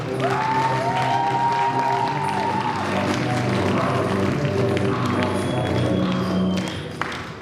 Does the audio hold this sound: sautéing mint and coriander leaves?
no